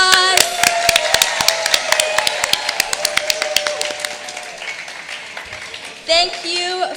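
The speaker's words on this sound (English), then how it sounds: "Give yourselves a round of applause." Scattered audience applause at a diversity talent and fashion show, many sharp separate claps ringing out close and fairly loud, slowly thinning before a brief louder burst near the end.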